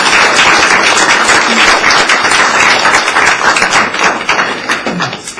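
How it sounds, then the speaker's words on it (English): A board meeting audience claps in applause, a dense burst of many hands that holds steady and then thins out toward the end, close and loud in a meeting room. "Let's give him another round of applause"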